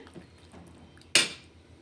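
A pot set down on a home kitchen stove gives one sharp metallic clank, close and clear against a quiet room, ringing briefly before fading.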